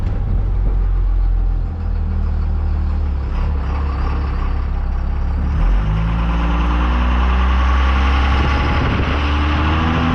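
A 12-valve Cummins diesel truck engine idles with a loud, deep, steady rumble and a lumpy low throb that shifts slightly in pitch partway through, heard up close with no talking.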